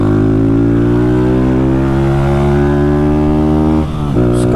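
Close, loud revving from a modified Honda Fan 160 motorcycle: a sustained, rising engine whine held at high RPM, then a sharp dip as the throttle snaps shut and picks back up, with no voices.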